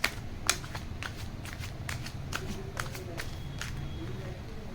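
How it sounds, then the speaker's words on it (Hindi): Tarot cards being shuffled and drawn during a reading, a series of crisp papery riffs and flicks at close range over a low background hum, with sharp snaps scattered through. "we will take 2 more cards"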